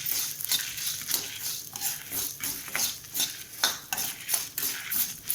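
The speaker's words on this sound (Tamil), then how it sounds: "இப்போ இது கூட மிளகா வற்றல், ஒரு துப்பு புளி, இதையெல்லாம் சேர்த்து வறுத்துக்கிறோம்" Dried red chillies and tamarind are stirred and roasted in a pan with urad dal, giving a rhythmic scraping and rustling of a spatula against metal with a faint sizzle underneath.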